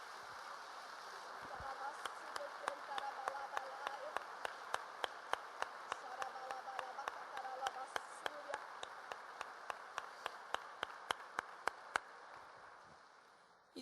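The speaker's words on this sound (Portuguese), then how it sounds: "Pode aplaudir a Deus." A church congregation applauds steadily with rhythmic clapping, the sound filling a large room and fading away at the end.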